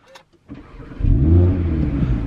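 An Audi TT RS sports car engine starts with a short crank, then roars into a deep, loud rev that settles into a rumbling idle.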